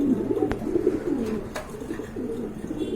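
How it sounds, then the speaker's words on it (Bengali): Pigeons coo softly in low, rolling murmurs at close range, with a couple of brief sharp clicks mixed in and no voices. "আরেকটা কবুতর দেখতে পাচ্ছেন, এটা হচ্ছে আপনার মাদি কবুতর"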